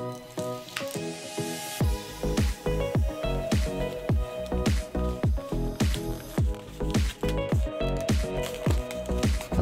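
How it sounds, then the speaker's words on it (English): A latex balloon is twisted into a pinch twist, giving a quick, rhythmic series of close squeaky squishes and rubbery stretching pulses that repeat steadily and stand alone without talk. "I'm gonna take the nozzle, place it into the twist here, and then twist it into a pinch twist."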